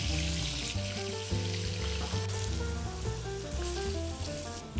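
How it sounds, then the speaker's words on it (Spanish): Pork ribs browning in oil in a pan, giving a loud, continuous close-up sizzle and crackle throughout. "Vamos con la costilla. Vamos a dorarla por todos los lados."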